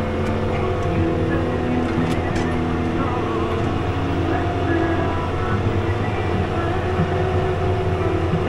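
A heavy diesel tractor engine labors steadily driving uphill, a deep continuous rumble with a constant low drone throughout, close by and loud.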